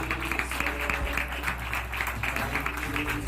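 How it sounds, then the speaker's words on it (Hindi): A Hindi church congregation claps to welcome a pastor at a morning prayer service, a steady, fairly faint patter of hands over a low constant hum. "पीजे स्टीफन पॉल जी का स्वागत करेंगे तालियां बजाते हुए"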